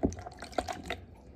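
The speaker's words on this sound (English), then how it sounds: "This is my measuring cup. I'm gonna pour it in here." Liquid poured from a one-cup measuring cup into another container, giving a brief burst of splashing, bubbly trickles and drips that fade out after about a second, with no talking.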